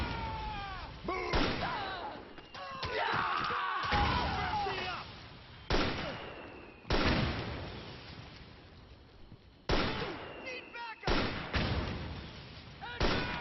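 Video game gunfire, several loud, sharp bursts of shots arriving in separate volleys with short gaps between them, mixed with game voices and effects.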